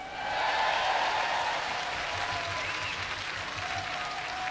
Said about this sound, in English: let's hear it for the ladies and gentlemen of the RTE Concert Orchestra